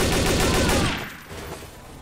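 Heavy gunfire in the video game Trouble in Terrorist Town, a loud dense burst of rapid shots that fades after about a second into scattered, quieter distant firing.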